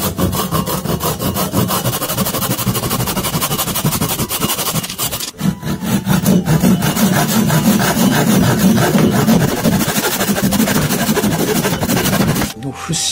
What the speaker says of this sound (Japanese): ここ節があるんで、これを今からノコギリで切っていきます。